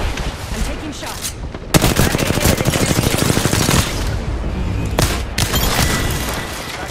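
Gunfire erupts in Apex Legends: bursts of rapid automatic fire with sharp cracks and a booming report, dense and loud, broken by brief gaps, with faint game voices in the background.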